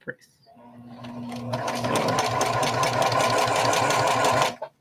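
A sewing machine stitches a bucket hat, starting after a brief pause and running steadily at a fast rhythmic pace, loud and close, for several seconds before stopping abruptly.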